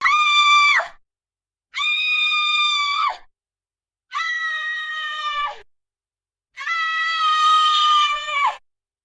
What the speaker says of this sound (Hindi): हर ओर से अजीब सी चीखें और आवाजें आ रही थीं।